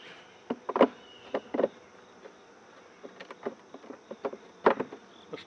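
Honeybees buzz faintly during a hive inspection, with scattered short buzzes and soft taps rising over a quiet, steady background hum.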